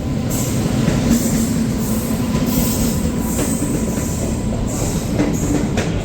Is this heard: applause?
no